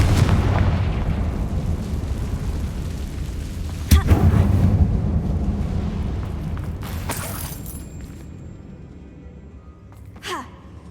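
Confringo blasting spells in Hogwarts Legacy, a sharp booming blast near the four-second mark followed by a rumbling tail, then fainter crackling bursts later over a low background rumble.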